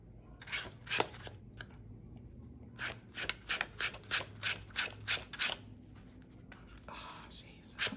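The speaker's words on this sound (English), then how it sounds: "One more shuffle." A deck of cards is shuffled quietly up close, with a few isolated papery flicks followed by a quick rhythmic run of soft riffling bursts and a brief rustle at the end.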